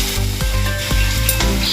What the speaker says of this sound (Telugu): బజ్జీలు ఉన్నాయి, మిరపకాయలు ఇలా ముంచుకొని ఆయిల్లో వేసుకోవాలండి ఒక్కొక్కటిగా